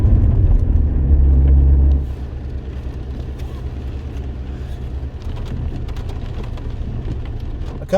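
Heavy rain falls outdoors as a steady, dense wash of noise, with a louder low rumble for the first two seconds before it settles to an even downpour. No one speaks.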